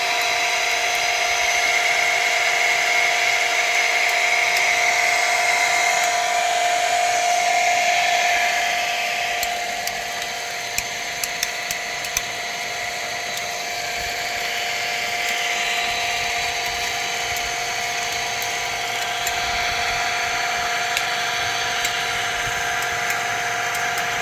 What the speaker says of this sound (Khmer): ម៉ូទ័រមួយនេះគឺម៉ូទ័រដែលខ្ញុំយកមកសាកទេ